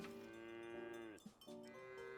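Drawn-out cattle mooing on a farm in a video game, overlapping in tonal calls with a brief break midway, loud and close.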